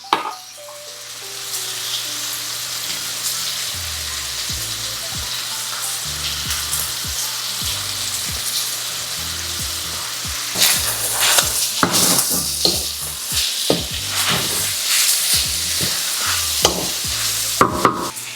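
Ingredients for chicken sotanghon soup sauté in a pan with a steady, loud sizzle and sharper hiss and clatter bursts from stirring toward the end.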